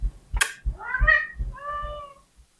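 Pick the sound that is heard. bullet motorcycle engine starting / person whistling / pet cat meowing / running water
pet cat meowing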